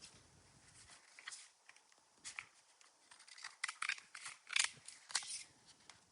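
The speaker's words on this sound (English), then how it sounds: "I'm just going to do this with scissors." Scissors snipping through glitter-coated card stock while making an interactive Halloween card, a run of short crisp cuts that grow louder and denser toward the end, fairly close and with no talking.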